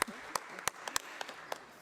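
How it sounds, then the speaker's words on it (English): An audience applauds panelists at a CGIAR Science Week strategic dialogue with a sparse scattering of individual claps, a few sharp nearby hand claps spaced irregularly rather than a full ovation. "Can we give them another round of applause?"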